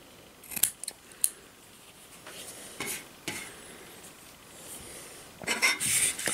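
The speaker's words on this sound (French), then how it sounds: "Je vais couper un petit peu le coton excédentaire." Small scissors snipping excess cotton wick on a Kangertech Protank 4 RBA deck, a few sharp close snips spread apart, separated by quiet handling sounds.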